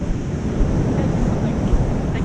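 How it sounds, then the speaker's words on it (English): Wild Pacific Ocean surf breaking on Rialto Beach in winter, a steady broadband roar of waves with wind buffeting the microphone, continuous and fairly loud throughout. "Wild Pacific Ocean beach in winter."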